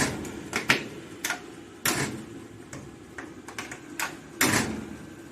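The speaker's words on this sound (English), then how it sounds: "And then see how the door shuts." The steel door of a 1975 Volkswagen Super Beetle is shut and worked several times, giving a series of sharp, close clicks and latching thuds spread across a quiet garage.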